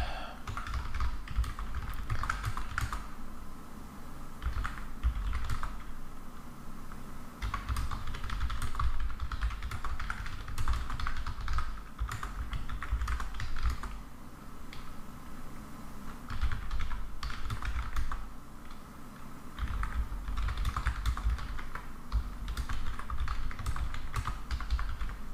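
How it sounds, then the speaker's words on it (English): Someone types steadily on a computer keyboard at close range, bursts of rapid key clicks separated by brief pauses, with no talking. "I'm just typing something, so nothing special."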